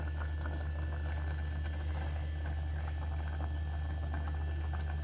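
Vegetable pieces and amaranth stems boil in a pot of majjiga pulusu, making a low, steady bubbling hum with soft, continuous patter nearby.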